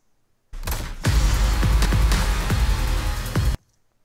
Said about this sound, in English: So now you can achieve the glitch effect if you like to.